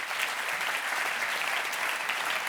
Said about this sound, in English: Give him a big applause, Ronald.